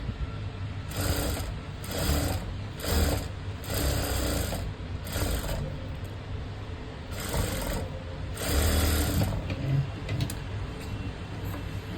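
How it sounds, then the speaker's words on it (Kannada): A sewing machine stitches piping for a lined blouse in repeated bursts of rapid mechanical whirring and clatter, close and steady, separated by short pauses with a low hum underneath. "ಈ ರೀತಿ ನೀಟಾಗಿ ಸ್ಟಿಚ್ ಮಾಡ್ಕೊಂಬಿಡಿ"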